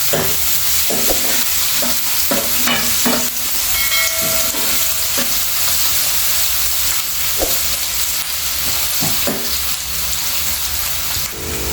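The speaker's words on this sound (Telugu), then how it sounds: "ఇట్లా మంచిగా ఫ్రై చేసుకోవాలి ఉల్లిపాయలు" Onions frying in a pan for an onion egg curry, a loud continuous sizzle and hiss with repeated scraping and knocking of the stirring spoon throughout.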